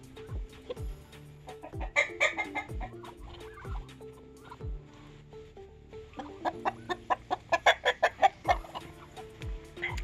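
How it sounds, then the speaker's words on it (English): Several roosters and hens cluck and chatter around an old burnt chicken coop on a woodland homestead, with soft repeated clucks building into a faster, louder burst near the end. "That's one of the roosters right there, and then there's another rooster there."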